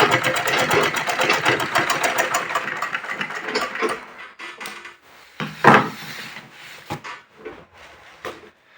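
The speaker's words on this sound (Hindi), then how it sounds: "अब हम करेंगे सीधी सिलाई" A sewing machine runs straight stitching on trouser fabric, a fast steady whirring close by for about four seconds, then stopping into scattered handling clicks and knocks.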